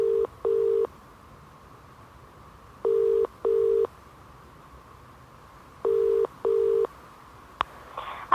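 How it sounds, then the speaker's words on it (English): A mobile phone call rings out from the caller's end in the double-burst ring pattern, heard three times at an even pace, clear and steady, with a faint click near the end. "So I phoned her mobile and it rang on about 20 times and it just cut off."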